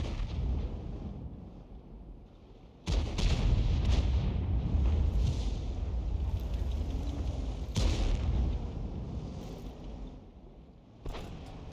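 Artillery gun firing in the World of Tanks video game, two heavy booming shots with long rolling tails, loud and close, with no talk over them.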